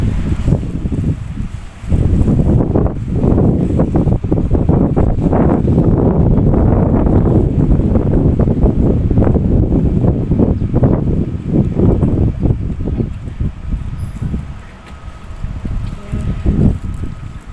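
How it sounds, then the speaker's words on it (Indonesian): Strong wind at the seaside near Losari beach in Makassar, beside a floating mosque, roaring and buffeting hard against the microphone in loud continuous gusts, with no talk. "Di sini anginnya agak kencang guys."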